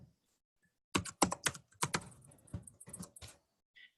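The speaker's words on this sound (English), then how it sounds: "Not typing so well tonight." Keystrokes clatter on a computer keyboard in a burst of quick, uneven clicks lasting a few seconds, close and fairly quiet, with no talking.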